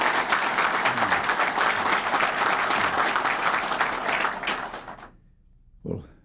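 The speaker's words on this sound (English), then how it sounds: "they did what you were just doing. They applauded." Applause from an American Legion leadership conference audience, loud and dense, sustained for about five seconds before trailing off, followed by a brief isolated sound.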